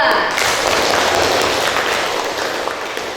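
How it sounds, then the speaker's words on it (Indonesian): Classroom applause for a student group after their presentation, a steady wash of many hands clapping, fairly loud and even throughout. "tepuk tangan untuk kelompok 2"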